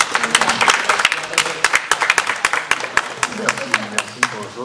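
An audience applauds a guest at a French television discussion, with dense, crackling claps running throughout and a voice talking over them.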